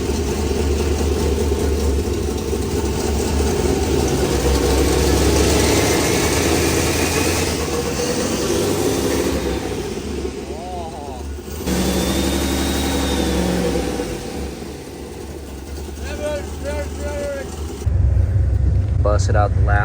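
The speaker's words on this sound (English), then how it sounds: "First startup on the new injectors. Not misfiring anymore." A 700HP junkyard turbo truck engine idles steadily on its first startup with new injectors, a loud continuous low rumble with slight shifts in tone and brief quieter stretches, running alone without any voices.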